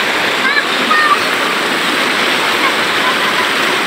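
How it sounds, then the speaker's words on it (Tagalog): Strong river current at Majayjay, Laguna, rushing water roaring steadily and close, with a faint brief whistle over the constant wash. "Grabe agos ng tubig dito guys."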